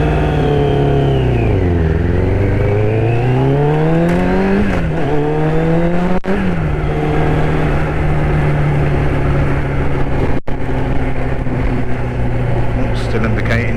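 Yamaha Thundercat motorcycle engine running with the choke off, a steady loud note that rises and falls with throttle blips early on, then settles into an even idle with a rider talking over it.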